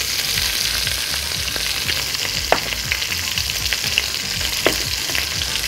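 Food frying with butter in a pan: a continuous crackling sizzle with scattered sharp pops and light stirring, steady and close with no talk.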